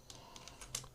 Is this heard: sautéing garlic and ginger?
no